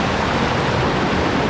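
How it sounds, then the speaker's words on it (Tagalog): Strong rushing water pouring through a mountain passage, a dense, loud, unbroken roar close by with no voices audible. "Grabe, nakakapangilabot yung lakas ng tubig at ragasa dito."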